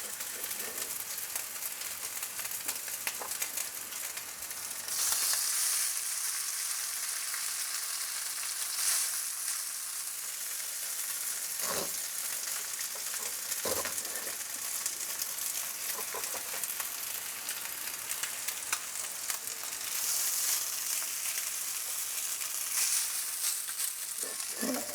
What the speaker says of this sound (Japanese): お蕎麦を焼きます。